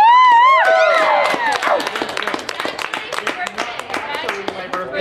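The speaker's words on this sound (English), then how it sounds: "Can we get a round of applause?" Restaurant diners clap and cheer for a birthday, a scattered burst of close clapping and whoops that trails off under overlapping chatter and shouted voices.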